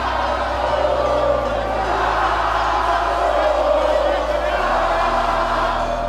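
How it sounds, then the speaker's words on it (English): A crowd at an FCC 39 MMA fight cheers on a fighter, a loud continuous roar of voices that fills the whole stretch without pause. "Despite the crowd defiantly cheering on his opponent"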